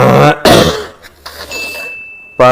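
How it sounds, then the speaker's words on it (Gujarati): A person with a cold coughs hard, one heavy burst followed by a second, close and loud, then quieter rustling, with a steady high tone and another sound starting at the end. "શરદી નું ઉધરસ બે ભેગું થઈ ગયું મને."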